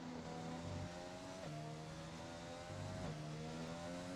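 A race car engine in a Brazil GP racing video game drones steadily at high revs, with brief dips like gear changes every second or so, loud and continuous with no talk.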